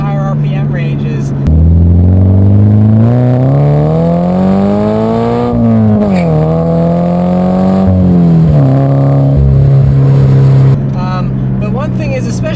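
A Scion FR-S fitted with a TRD exhaust revs hard, its engine note climbing and falling in smooth sweeps through the high RPM range, loud and close, with a brief drop before revving again.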